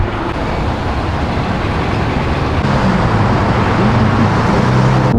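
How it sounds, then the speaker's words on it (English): A Nissan Silvia S15 driving on the road, a steady loud roar of engine and road noise lasting throughout with no break and no talking. "We're driving Isabel's S15 home to surprise her."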